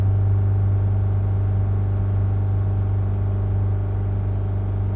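Chrysler Voyager diesel engine held steady at 3000 RPM, a loud, constant droning hum with an even rumble that stays unchanged throughout.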